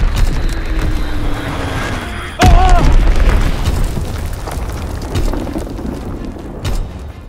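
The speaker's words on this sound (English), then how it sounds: "Enemy bomb incoming." A loud bomb blast in the World War II shooter Call of Duty: WWII booms out midway, its heavy low rumble rolling and fading over continuous battlefield noise and distant mechanical droning.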